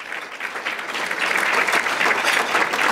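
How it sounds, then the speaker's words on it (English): An audience at a City Club speaking event in Chicago applauding, steady close clapping from many hands that swells and holds throughout. "Let's give her a round of applause"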